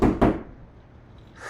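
A door opening in a quiet room: two close knocking thuds at the start, then a soft handling rustle and low room hiss that trail off, with a faint shuffle near the end.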